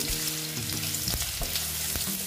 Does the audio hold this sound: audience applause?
no